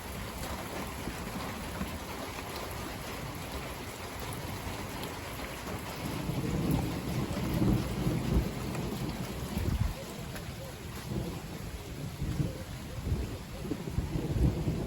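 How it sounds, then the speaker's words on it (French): A thunderstorm at the end of a storm on 1 August 2024, with steady rain on surfaces and rolling thunder that swells in the middle, fairly distant and low rather than a single sharp crack. "Un orage colossal."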